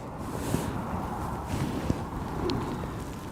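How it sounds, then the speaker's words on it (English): Strong gusty wind buffets the open air at Aberdeen Airport during Storm Amy, a continuous roaring rush with a few sharp bumps, no voices. "Proper windy here"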